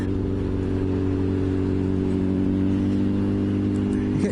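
Kawasaki ZXR 750 H1 motorcycle engine held at a steady, loud, close drone under acceleration on gravel, with a mid-pitched whir that barely changes.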